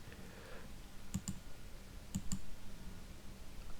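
A computer mouse clicks while working in Microsoft Excel: two close double-clicks about a second apart, crisp and near, over a quiet background hum.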